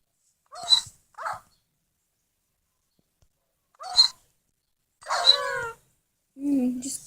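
Short, sharp dog barks in a few separate bursts with silent gaps between, clean and close like a Minecraft game sound effect.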